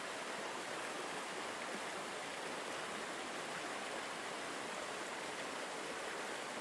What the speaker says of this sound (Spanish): El suave sonido de la cascada seguirá contigo